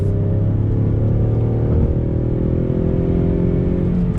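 A 2020 Ford Mustang EcoBoost, rear-wheel drive, pulling under steady throttle while driving, its engine drone loud and continuous with rising and shifting tones, heard from inside the car.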